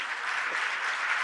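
A brief burst of dense applause fills a religious discourse hall during a Jain monk's question-and-answer session, the many hands clapping in a steady, even roar.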